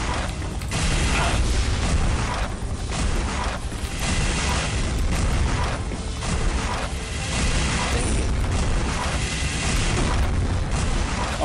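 Rocket blasts booming one after another in the shooter game SiN: Wages of Sin, loud and dense with rumbling mechanical noise throughout and no talking.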